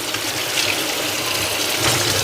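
Tap water runs steadily in a kitchen sink as vegetables are rinsed for pickling, a continuous close hiss and splash with no talk over it.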